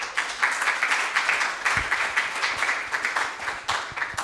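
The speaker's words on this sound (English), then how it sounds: "but give them a round of applause" Scattered, fairly quiet applause from a small audience at a summit session, individual claps audible in an uneven patter rather than a full roar.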